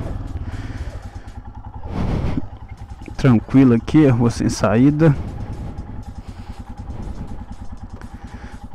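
A Royal Enfield Himalayan motorcycle idles on a quiet dead-end street with a steady, low, pulsing rumble. Someone talks over it in the middle, and the engine carries on alone before and after.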